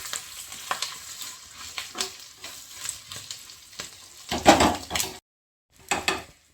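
Curry leaves fry in oil for tamarind rice pulihora, a close, crackling sizzle with scattered spatters and pan clatter that cuts off abruptly, then resumes after a short silence.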